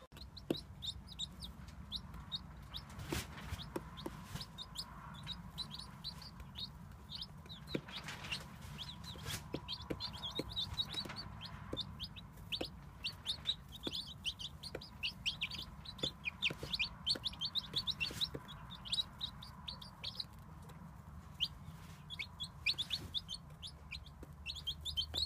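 Hens cluck and chirp steadily in the background near a chick nursery, their calls overlapping in a continuous, moderately distant chatter with occasional sharper squawks.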